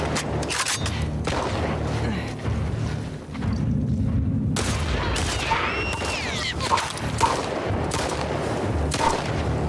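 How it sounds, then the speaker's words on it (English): Gunfire crackles through a firefight in The Last of Us Part II video game, with dense bursts of rapid shots, a few heavier booms and a brief lull, all loud and close. "Who's shooting at me?"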